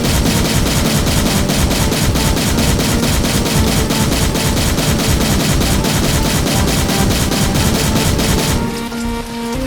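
Rapid automatic gunfire from a game being scripted, firing loudly and continuously in an even rhythm for about nine seconds until the ammo runs out, then stopping abruptly and leaving a quiet tone.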